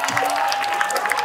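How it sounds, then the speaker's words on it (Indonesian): Studio audience applause for Mas Marto on a comedy show set as a doctor's clinic, a short burst of steady clapping with a few louder claps, moderately loud and fairly close. "Tepuk tangan buat Mas Marto."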